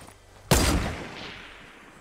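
A single loud, close gunshot cracks out in a Fortnite match, with a sharp attack and a long fading echoing tail.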